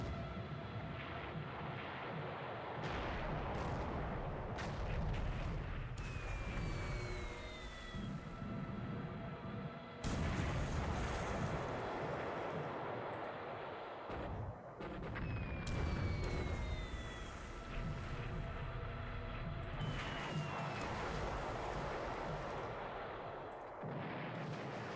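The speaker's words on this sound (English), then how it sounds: "He's dropping bombs in a dead ship." Bombs hitting an already wrecked ship in a World War II Pacific naval war game, with repeated heavy, booming blasts and a sustained roar, marked by short whistling tones between the impacts.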